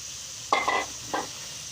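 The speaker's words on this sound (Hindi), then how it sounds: "बस ये देखें मैंने सारी सब्जियां इसमें मिक्स कर दी हैं" Mixed vegetables with fenugreek stirred in a pan for a dhaba-style sabzi, heard as two short scraping strokes of a spoon over a faint background sizzle.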